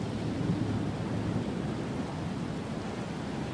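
A monsoon thunderstorm: a steady, dense roar of heavy rain with a faint low rumble underneath, continuous throughout and with no voices.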